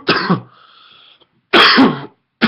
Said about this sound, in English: if you can hear my cough